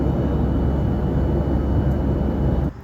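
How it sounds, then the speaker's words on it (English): Steady, loud broadband roar of an airliner cabin in flight, seated over the wing on a plane out of Milwaukee, continuous and unbroken until it drops off abruptly near the end. "I'm on a plane over a wing."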